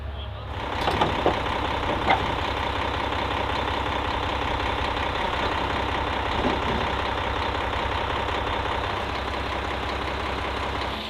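A heavy concrete truck engine rumbles steadily nearby as it comes up a driveway, loud and continuous, with a few faint clicks and knocks over the drone.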